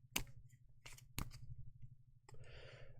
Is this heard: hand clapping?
no